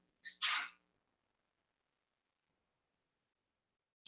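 A single sharp sneeze bursts out near the start, followed by quiet.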